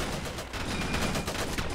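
Dense gunfire from the World War I mode of the video game Ravenfield crackles continuously, with rapid overlapping shots forming a steady barrage throughout.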